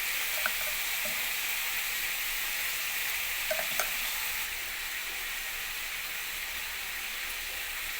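Potatoes frying and being stirred in a pan of hot oil while cooking a Bengali long bean, potato and egg bhujia, a steady close sizzle running throughout with a few faint utensil clicks, no talking.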